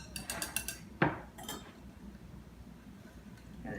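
Flour mixture dumped into a mixing bowl of muffin batter: a single short thump and rustle, close by, with light metallic clinks of a whisk and bowl around it.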